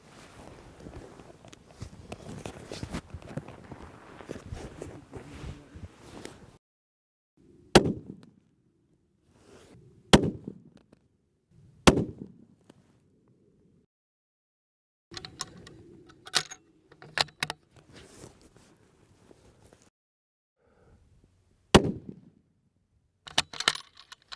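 Rifle shots fired at long range through a clean bore to build fouling: about seven sharp cracks spaced several seconds apart, each with a short echoing decay, heard outdoors with quiet gaps between shots.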